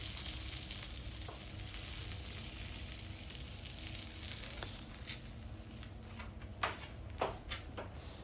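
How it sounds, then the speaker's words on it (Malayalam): Pathal batter frying in coconut oil on a hot stone: a low, steady sizzle and crackle, fairly quiet and even, with a few faint taps and clicks toward the end and no talking. "അപ്പം എണ്ണ ചൂടായി വരുമ്പോൾ നമ്മൾ പരത്തി വച്ചേക്കുന്ന മാവ് അതിലേക്ക്"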